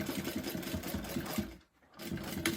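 A sewing machine stitches a fabric bag with a fast, steady rhythmic whir, pauses briefly, then resumes, back stitching to secure a seam; close and fairly soft, with no talk.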